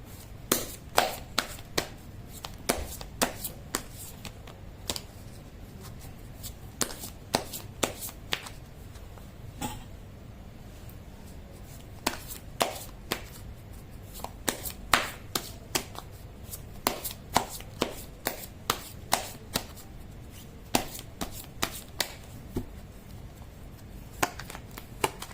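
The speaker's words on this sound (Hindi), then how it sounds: "मैं कर लेती हूँ कार्ड की शफलिंग।" Tarot cards shuffled by hand at close range, producing quiet, rapid flicks and sharp riffling taps in irregular clusters with short pauses between bursts.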